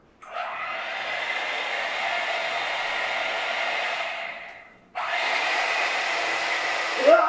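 An electric hand mixer whirs steadily near the microphone, cuts out briefly, then starts again at the same pitch, with no talking over it.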